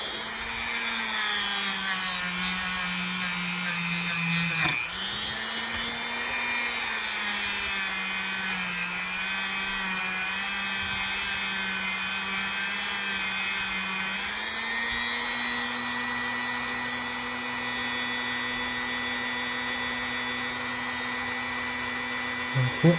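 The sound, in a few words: rotary tool with abrasive pads removing rust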